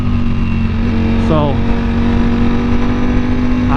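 Ducati Panigale V4 motorcycle from 2020 at part throttle, heard from onboard with the helmet off: a loud, continuous droning exhaust note holding a steady tone, with a brief spoken word over it.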